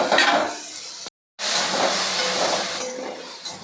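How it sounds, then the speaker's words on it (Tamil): Tomatoes sautéing in a pan for chutney, a steady close sizzle and hiss with a brief silent cut partway through, no voices. "இன்னும் ஒரு 5 நிமிஷம் வதங்கட்டும்."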